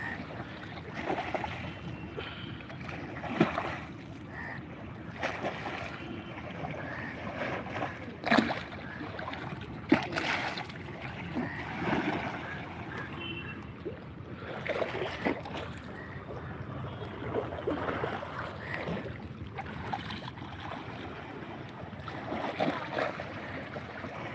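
Tidal bore water surging along the Ganges near Dakshineswar, with steady rushing and sloshing against a large rocking boat, broken by occasional louder knocks and splashes over the whole stretch.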